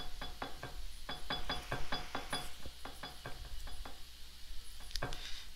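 Dishes being washed in the video game One-Armed Cook: a quick run of clattering knocks and scrubbing clicks, close and fairly steady, with a brief louder clank near the end and no talking.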